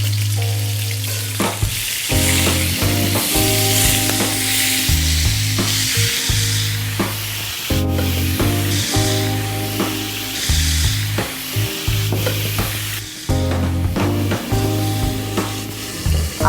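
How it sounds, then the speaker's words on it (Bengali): Marinated duck meat sizzles and fries in a few tablespoons of oil in a pan, a loud, steady crackle broken by frequent scraping stirs and clanks of a utensil against the pan. "এবার আমরা হাঁসের মাংসটা ভেজে নিচ্ছি।"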